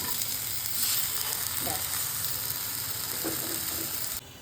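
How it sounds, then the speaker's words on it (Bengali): Eggplant pieces fry in hot oil in a pan, producing a loud, close, steady sizzle with a few faint clinks of stirring and no talking. "এখানে বেগুনটাকে লাল করে একটু ভেজে নিচ্ছি"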